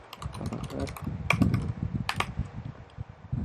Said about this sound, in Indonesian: Kita ngetik hey